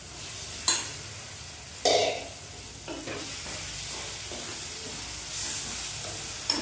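Onion curry stirred in a pan for a gongura or tomato boti dish, a soft steady sizzle broken by a few loud spatula knocks and scrapes against the pan, close by.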